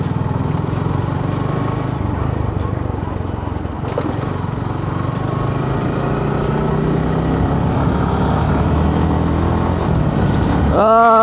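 A motorcycle riding along a road between Goa and Gokarna, its engine droning steadily and loudly throughout, with wind rumble and a brief rising whine near the end.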